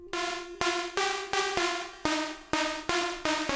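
The second stacked synth layer in a remix melody plays solo, a plucky tone whose notes strike sharply and decay in a repeating rhythm, moderately loud with no voices.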